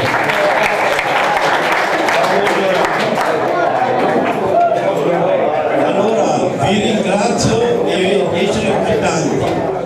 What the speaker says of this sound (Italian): facciamo un applauso a Rosalini Benedetto